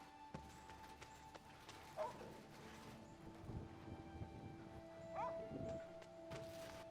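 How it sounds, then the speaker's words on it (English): A dog barks faintly in the distance, two brief yelps a few seconds apart, under a steady hum and low game music. "Hear a dog barking, and for once it's actually not my dog ruining my audio for my videos."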